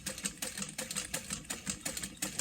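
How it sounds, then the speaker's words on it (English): A sewing machine stitching webbing onto a lunch box runs in a quick, even rhythm of close, repeated needle strokes, alone with no talk. "Then I'm going to pivot and sew straight down,"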